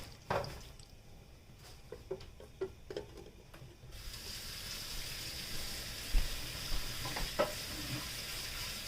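Scrapes and taps of stirring give way to a steady, loud hiss of water steaming and sizzling in a hot pan with breaded tilapia.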